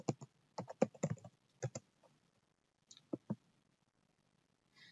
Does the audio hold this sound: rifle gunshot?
no